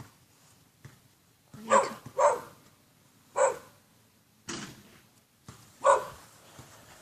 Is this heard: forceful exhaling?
no